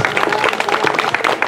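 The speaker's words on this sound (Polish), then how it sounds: "Wielkie brawa!" A crowd applauds at an equestrian show-jumping competition, a dense, steady wash of many hands clapping close and loud throughout, with no gaps.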